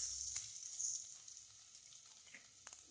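Onions, peanuts and pounded garlic fry in a pan for peanut chutney, giving a faint, thin sizzle with a few soft pops and crackles, quiet and close.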